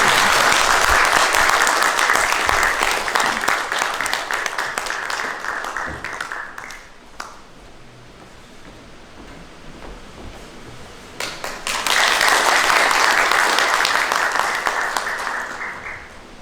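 A small lecture audience gives sustained applause to welcome a speaker to the podium. The clapping is loud, fades to a quieter lull, then swells strongly again before tapering off.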